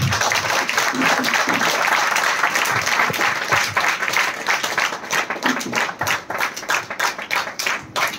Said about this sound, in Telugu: ఒకసారి సంతోషంగా ఉన్నవాళ్ళు గట్టిగా చప్పట్లు కొట్టాలి